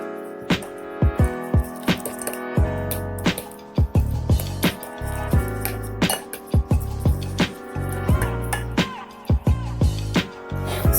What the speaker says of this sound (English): We're just going to keep stirring this mixture until it thickens.